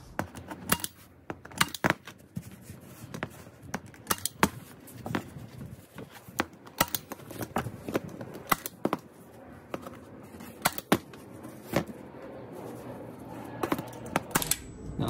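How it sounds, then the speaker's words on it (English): A staple gun fires a series of sharp snapping clacks at irregular intervals, fastening fabric to a custom Saab 9-3 trunk panel, with softer handling noises between shots. "putting down a few staples"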